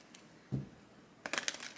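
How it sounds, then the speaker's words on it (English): A deck of tarot cards is shuffled close by, a soft thump followed after a pause by a quick riffling flutter of cards, with no talking. "I'm going to give it a couple more shuffles."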